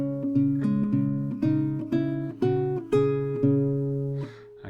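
A guitar plays one bar of a song as a run of clean, bright plucked notes in a quick repeating rhythm, close and alone, each attack ringing out before the next.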